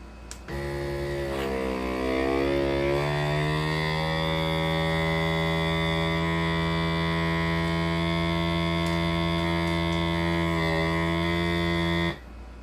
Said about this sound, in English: we're going to vacuum and seal